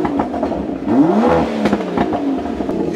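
A V12 car engine revs hard up close in sports mode, rising in pitch with crackles and pops over a loud, rumbling exhaust.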